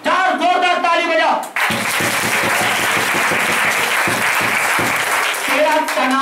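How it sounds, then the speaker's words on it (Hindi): A congregation at a Christian prayer meeting in Kota, Chhattisgarh bursts into loud, sustained applause for several seconds, with speech heard before and after. "चार जोरदार ताली बजा"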